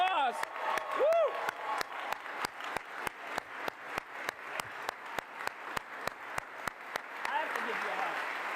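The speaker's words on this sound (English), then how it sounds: "Jenny, big round of applause." An audience at a Canadian Space Agency announcement of new astronaut assignments breaks into applause, with a whoop near the start. The clapping turns into a steady, rhythmic beat and continues throughout.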